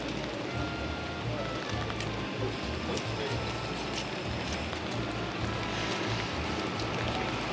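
Rain falls steadily in Cambridge as a dense, even patter on outdoor surfaces, with a few sharper drips standing out from the constant hiss.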